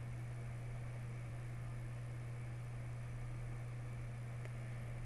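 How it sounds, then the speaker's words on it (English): A laboratory centrifuge spins at about 4,000 to 5,000 RPM (roughly 1000 g), a steady, even hum with a low drone that holds constant for the whole stretch, with no voices. "Vortex vigorously, then centrifuge for 1 minute at 1000 Gs or about 4 to 5000 RPM."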